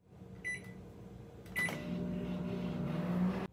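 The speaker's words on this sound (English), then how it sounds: "Put it in the microwave for 20 to 30 seconds." A couple of short beeps and a door clunk, then a steady low electric hum as the microwave runs on.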